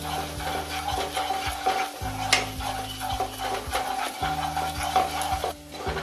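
Ground turmeric, chilli, coriander and cumin being stir-fried in a pan for Bengali spicy aar fish curry, a continuous close scraping and stirring over a steady sizzle, with no voices.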